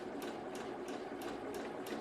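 A sewing machine runs steadily as it stitches across the small gap left for the elastic in a sleeve, a close, even motor whir with a regular ticking needle beat about three times per second.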